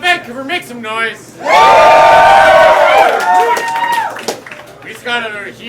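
A live rap battle crowd at a King of the Dub event in Vancouver bursts into loud cheering and yelling for a couple of seconds, with a host shouting over the crowd before and after.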